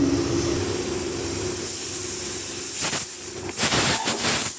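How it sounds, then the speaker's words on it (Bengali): Pressure cooker on the stove while dal cooks, giving a steady hiss of escaping steam followed by louder sputtering whistle bursts near the end, close and loud with no talk. "আর এদিকে প্রেসার কুকারে সিটিটা দিয়ে দিলে ডালটা নামিয়ে দেবো।"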